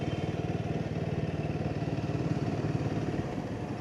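A Royal Enfield Himalayan 450 motorcycle ridden off-road, with the rider standing on the pegs; the single-cylinder engine throbs in a steady, rapid pulse at a constant pace, close and moderately loud, with faint mechanical clatter.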